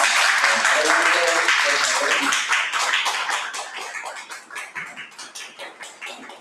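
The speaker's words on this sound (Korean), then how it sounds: "그래서 두 분이 앞으로 나오실 때 먼저 우리 큰 박수로 우리 환영해주시겠습니다." A church congregation claps to welcome two speakers coming forward, a dense roar of applause that thins gradually into scattered individual claps by the end.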